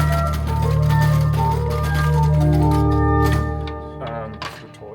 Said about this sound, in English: a flute traversa, which sounds like this.